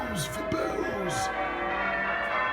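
Church bells ring with sustained, overlapping tones while people talk nearby, their voices mixed in with the ringing.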